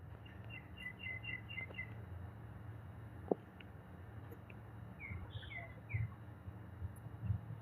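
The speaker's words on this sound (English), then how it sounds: "there's a tree outside with birds in it" Faint bird chirps and short tweets repeat in quick little series over a low, steady background rumble, distant and quiet.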